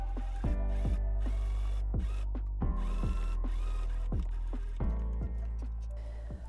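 Sewing machine stitching a seam through fabric layers of a Chanel-inspired garment from the waistline up to the slit, a close, steady mechanical run punctuated by repeated rhythmic clunks and low thumps, no talking.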